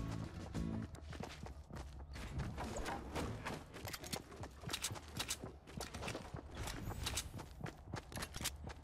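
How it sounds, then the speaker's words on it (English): Rapid footsteps in the Fortnite battle royale video game, a dense run of quick, close, fairly loud steps with a galloping rhythm that continues without pause and with no talk over it. "I think I heard footsteps down there"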